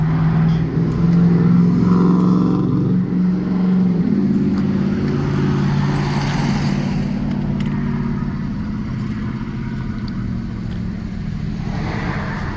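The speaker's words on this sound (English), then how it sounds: "Coming home traffic. Work traffic." Road traffic during the evening commute home from work rolls past steadily and loudly, with engines humming and swelling as cars go by one after another, and no voices.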